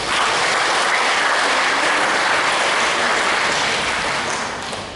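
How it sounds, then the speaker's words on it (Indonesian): An audience claps loudly and evenly throughout at a parish anniversary church gathering, a dense wash of clapping that fades slightly at the end. "Tepuk tangan untuk mereka."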